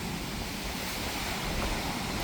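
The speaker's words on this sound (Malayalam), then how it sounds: "ഏത് നിമിഷം വേണേലും ഒരു തിരമാല കയറി കഴിഞ്ഞാൽ നമ്മൾ നനഞ്ഞു പോകും" Rough, churning sea surf breaks steadily on the shore at Kadappuram Anchangadi during severe coastal erosion, a continuous loud wash of waves mixed with gusty wind noise and no voices.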